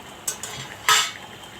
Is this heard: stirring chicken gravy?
yes